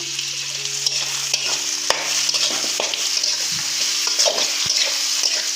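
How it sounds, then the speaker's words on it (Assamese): Capsicum, cabbage, onion and chilli stir-fry in a hot pan, giving a steady, loud sizzle broken by quick scraping and clicking stir strokes, with no talk. "কেপচিকাম, কবি, পিঁয়াজ, জলকীয়া গোটেইখিনি একেলগে দি ভাজি লৈছোঁ"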